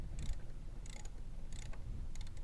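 A wrench ratchets on the 14mm front brake caliper bolts of a 2013 Honda CBR1000RR, giving four short, bright clicking bursts in steady rhythm over a low background rumble.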